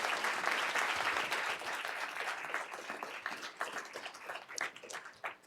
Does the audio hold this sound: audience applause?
yes